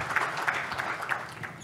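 Audience applause at an evening award ceremony for the Pouces de la performance, a brief burst of many hands clapping in a hall, moderately loud and steady with no voices over it.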